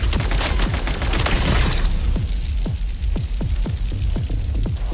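Grenade explosions in the video game Genshin Impact, heard as a loud run of quick booms and crackles followed by a string of evenly spaced blasts, close and dominant, with no talk.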